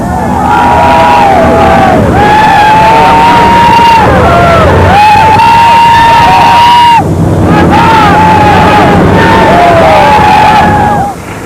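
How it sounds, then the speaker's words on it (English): A crowd of young troops cheers and shouts in repeated loud, rising whoops with overlapping voices and wind buffeting the microphone, in a close and continuous stretch. "That sort of cheering, though, is the exception rather than the rule as the young troops move out"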